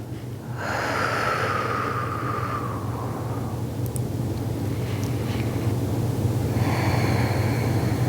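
Slow meditative breathing, a long audible inhale or exhale swelling over a couple of seconds, then a pause and another breath starting, close and soft over a steady low background hum.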